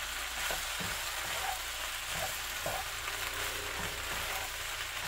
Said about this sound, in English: We're going to give it a little stir.